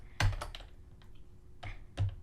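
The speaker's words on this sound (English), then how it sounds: "So, start typing." Close, quiet keystrokes on a computer keyboard, a handful of separate clicks and taps with short pauses between them, no voices.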